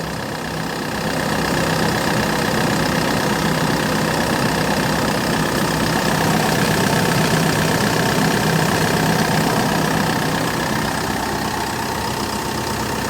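A 2005 Kia Bongo III diesel truck engine idles close by, a continuous low rumble with an even, unchanging drone throughout and no voices.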